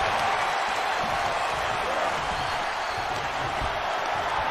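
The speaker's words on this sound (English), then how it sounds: "The sound of this crowd is deafening" Wrestling arena crowd roaring continuously at a loud, steady level, a dense wall of cheering and noise with no breaks throughout.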